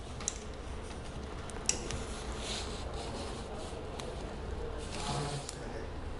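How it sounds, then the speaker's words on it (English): Removing screws from the battery tray of a Jazzy Carbon folding powerchair with a Phillips screwdriver and a 5/16 wrench gives faint metallic ticks, light clicks and soft rubbing scrapes, close by and otherwise quiet. "I'm going to start with the front screws, Phillips up top, 5/16 wrench at the bottom."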